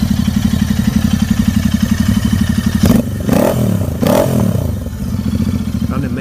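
Royal Enfield cafe racer motorcycle engine running loud and close, a steady rapid idle pulse broken by two sharp revs around the middle before settling back to a throbbing idle.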